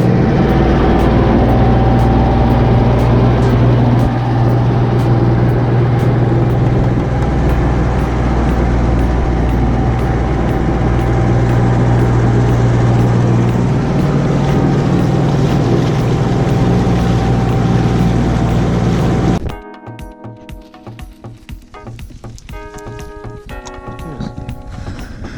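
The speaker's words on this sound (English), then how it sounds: "I'll start the engine." Aboard a small fishing boat, a loud engine drones in a constant low rumble for about twenty seconds, then cuts out abruptly, leaving quieter sounds.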